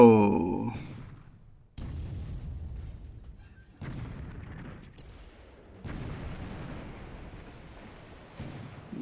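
A 3-inch naval gun fires in War in the Pacific, five heavy booms spaced about two seconds apart, each with a deep rumbling tail, fairly loud with no talk.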